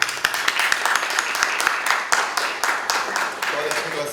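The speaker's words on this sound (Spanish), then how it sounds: "Quiero despedir con un fuerte aplauso la presencia del profesor Ragnal Yain." A conference audience applauds steadily, many hands clapping in a dense, continuous patter that holds at an even level throughout.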